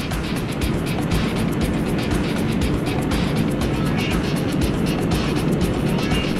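Jet aircraft engine thrust building on a runway in a combat flight video game, a loud, steady broadband roar sustained throughout with no pauses.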